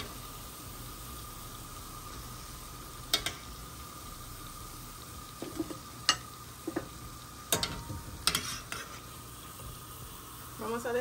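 Churros fry in hot oil with a constant soft sizzle, broken by several clinks and scrapes of utensils against the pan while the batch browns; no talk over it.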